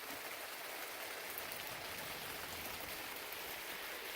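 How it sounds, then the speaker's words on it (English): Water dripping off a natural rock shelter on a trail, a steady soft patter and trickle like light rain, faint and continuous with no talking. "And water dripping off of it, just kind of cool."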